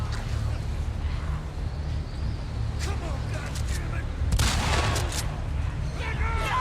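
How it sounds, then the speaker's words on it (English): Shotgun blasts from The Last of Us Part 2, with Joel firing buckshot at infected, come as a few loud bursts over a constant low rumble of game noise, mixed with scattered creature sounds. "where Joel is pumping them full of buckshot right now"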